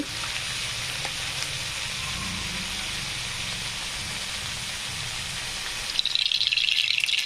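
Mustard seeds sizzle in hot oil in a heated kadai, a steady close crackling hiss that grows sharper and louder near the end as more seeds pop.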